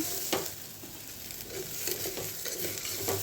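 Chopped onion fries in a pan with a steady, fairly loud sizzle. Occasional stirring scrapes break through, and no one speaks.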